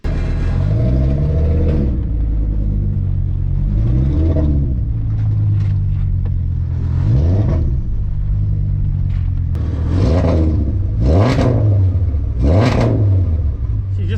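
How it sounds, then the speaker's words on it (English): Volkswagen VR5 engine in a Savoy with an open cat exhaust, revved repeatedly in loud, rising and falling bursts over a steady deep idle rumble, close by. "this car sounds super cool and angry being open cat"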